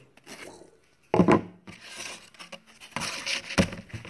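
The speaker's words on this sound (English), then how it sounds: "Cuts real easy with a knife." A knife cuts through foam pipe insulation close up, making several scratchy rubbing and tearing strokes, with a couple of louder bursts and no talking.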